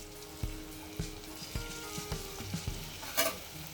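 Wheat-flour samosas frying in hot oil, a steady close sizzle with soft periodic stirring knocks and a brief hiss near the end, no talk.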